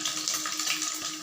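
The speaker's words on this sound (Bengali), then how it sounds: "এরপরে আস্তে আস্তে আমাদের পনিরগুলো একটু ভেজে নিতে হবে।" Paneer, 250 grams, frying in hot oil in a kadai while Hyderabadi-style paneer is being cooked, giving a steady, close sizzle of crackling oil with no talk.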